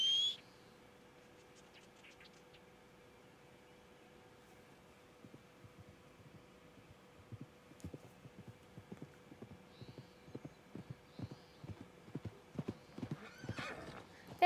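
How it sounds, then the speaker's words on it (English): In Red Dead Redemption 2, a horse whinnies loudly at the very start. A quiet stretch follows, then hooves clop in an uneven rhythm that grows steadily louder as the animal approaches. "Where's my horse?"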